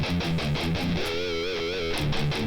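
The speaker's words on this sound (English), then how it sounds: "pinch harmonic, is like this." A pinch harmonic squeals on a distorted electric guitar during a metal lesson, a sharp high overtone wavering with vibrato over a chugging, palm-muted riff, loud and close with no talk.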